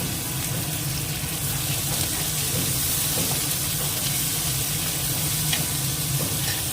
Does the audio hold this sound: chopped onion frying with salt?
yes